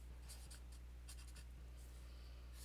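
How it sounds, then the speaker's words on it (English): A pen scratches across paper while someone works a statistics problem, giving close, dry strokes in short irregular bursts over a low steady hum, with no talking. "I'm going to write this right now on some paper"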